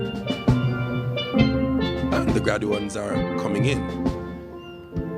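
Steel band music plays at a graduation ceremony, with bright sustained pan tones filling the space under a voice announcing over it.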